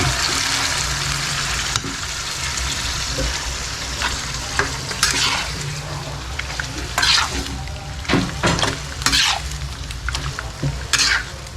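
Meat frying in a pan for a Christmas Eve meal, with a constant loud sizzle and occasional stirring scrapes and bursts.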